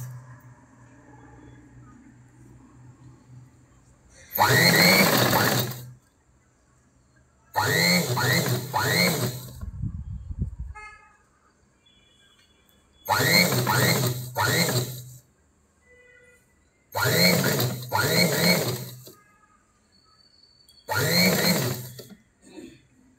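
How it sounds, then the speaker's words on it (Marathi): A sewing machine stitches lining fabric for a blouse in five loud bursts of rapid whirring, with quiet pauses between them and no talking. "बघा अशी आपण शिलाई मारून घेत, बघा ही अशी शिलाई मारून घेत आहोत आपण ह्या साईडनं"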